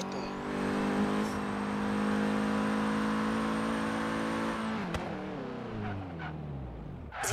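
A Lamborghini in Forza Horizon 3 cruising with a steady, loud engine drone and whine that holds for several seconds, then drops as the car slows and the revs fall away.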